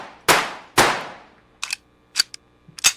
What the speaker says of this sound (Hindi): क्या फायदा जब गन उसके लग ही नहीं रही है